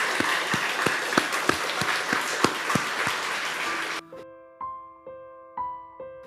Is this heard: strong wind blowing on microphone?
no